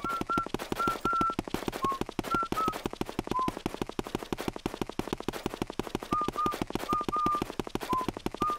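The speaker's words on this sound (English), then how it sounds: "he calmly strolls while whistling the game's theme song" Luigi's thin whistled theme song from the GameCube game Luigi's Mansion floats faintly over a dense, rapid crackling rhythm, the tune coming in short phrases.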